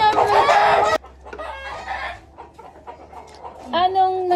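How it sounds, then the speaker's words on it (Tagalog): Chickens cluck and a rooster crows loudly and close by, with a dense burst of calls at the start, quieter scattered clucking through the middle, and a strong crow returning at the end. "Hindi po makapag-vlog ang ayos gawa ng mga manok."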